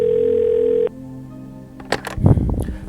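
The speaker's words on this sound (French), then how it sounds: "Là, ça sonne." An outgoing telephone call: a steady tone is followed by a pause, then clicks and a burst of line noise as the call connects.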